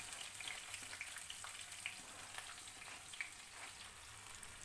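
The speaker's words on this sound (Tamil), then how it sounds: "வெங்காயம் நல்ல பொன்னிறம் ஆற வரைக்கும் நல்லா வதக்கிக்கோங்க." Chopped onion frying in oil in a kadai, a soft continuous sizzle with scattered small crackles and pops, steady and fairly quiet throughout.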